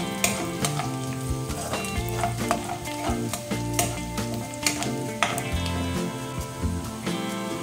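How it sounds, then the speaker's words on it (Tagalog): Garlic and onion sautéing in a pan for minced chicken, a steady sizzle broken by repeated sharp clinks and scrapes of a utensil stirring against the pan, close and without talk. "ngayon po ay lagay natin yung bawang, sibuyas, mekos-mekos muna siya until mag-brown"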